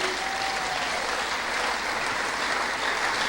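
A church congregation breaks into steady applause, a dense, even wash of clapping that holds at the same level from start to finish.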